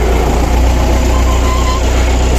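An MTZ tractor engine runs loud and close with a steady low rumble while towing bales through deep snow, the drone continuous throughout.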